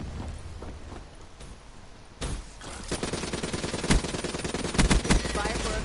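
Machine gun fire in Black Ops 3 online multiplayer starts as sparse distant pops, then rapid, louder bursts of automatic fire build through the second half, with footsteps faintly underneath.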